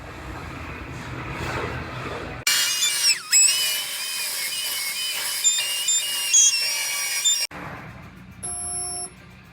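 MIG welding a replacement trunk floor panel into a car body, a loud sustained crackling burst of about five seconds between quiet gaps, with no one talking.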